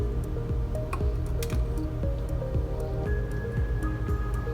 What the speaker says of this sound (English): drizzle just a little bit of that juice, woo, on the mushrooms